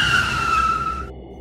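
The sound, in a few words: car braking suddenly with tires skidding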